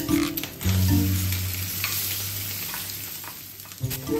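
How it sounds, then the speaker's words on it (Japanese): Fried rice sizzles and hisses steadily in an iron frying pan, a loud, continuous frying sound with occasional clinks and scrapes of stirring. "それではチャーハンを作っていきます。"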